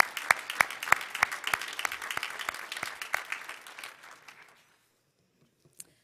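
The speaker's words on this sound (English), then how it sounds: "So let's give her another round of applause." A small church congregation gives a round of applause, a few sharp separate claps ringing out up close, then thinning and fading into near silence, with one last stray clap.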